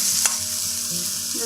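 Chilies and French garlic fry in a pan with a bright, constant sizzle and soft stirring scrapes, close up, brief and without speech.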